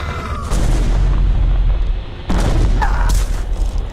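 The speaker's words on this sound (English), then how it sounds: "God, that 90s explosions just perfect" Retro 1990s-style explosions from the real-time strategy game StarCraft: Remastered, with Protoss units in battle, two loud booming blasts with rumbling low end and crackling debris, the second hitting around the midpoint.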